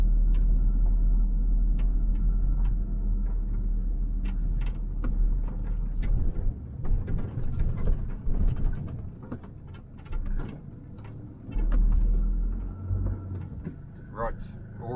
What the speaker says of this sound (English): Really does sound like a proper old school diesel.